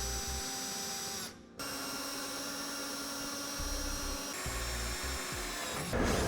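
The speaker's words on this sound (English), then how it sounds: "We're now going to have to pre-drill and drill out our center holes" A power drill whirs steadily into the steel frame of a 2015 Chevrolet truck, the motor pitch dipping briefly as it pauses, then resuming with rough grinding under the constant whine.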